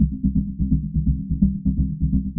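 Synthesizer pattern heavily low-pass filtered by a plugin, giving a muffled, dark pulsing tone in a steady repeating rhythm, moderately loud with no voice.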